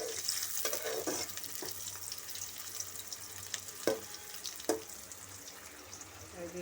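Sliced onions frying in a pan until light brown, giving a steady, close hiss of oil with occasional clinks and scrapes from stirring.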